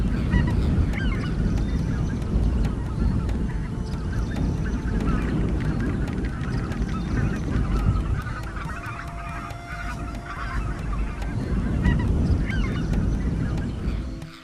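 A flock of geese honking continuously and loudly, many overlapping calls forming a dense, clamorous chorus close by.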